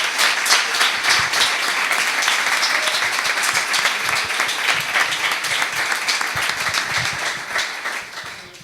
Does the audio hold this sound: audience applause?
yes